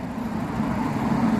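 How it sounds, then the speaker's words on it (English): Dull, steady rumble of road traffic passing nearby in Norway, a continuous low drone without distinct vehicles standing out. "And it's so noisy, all the traffic."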